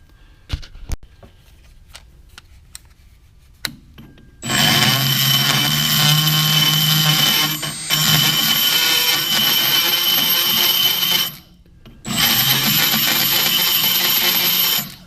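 A rotary burr in a power tool spins at high speed while cleaning up a metal tool, a loud steady high whine in two long bursts separated by a short pause, after a few sharp clicks and taps.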